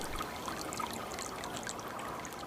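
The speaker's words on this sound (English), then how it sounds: "I love the tinkling sound of running water" Running water of Big Hill Springs Creek, a steady, close, tinkling trickle and babble with no break and no voices.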